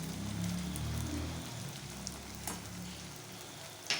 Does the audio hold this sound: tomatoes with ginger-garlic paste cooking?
yes